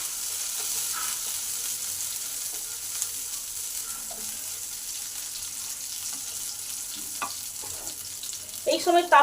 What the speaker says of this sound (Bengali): তেল গরম হলে তেলে 1 চামচ ছোলার ডাল আর 1 চামচ বিউলির ডাল দিয়ে দেবো